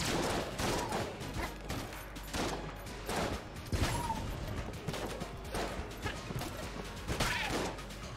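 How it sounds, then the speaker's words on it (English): Bombs going off in the video game Enter the Gungeon: a fairly quiet, busy stream of repeated blasts and crashing impacts from gunfire-heavy combat, coming in rapid uneven bursts with no talking. "I guess when the bomb touches an enemy, it also explodes"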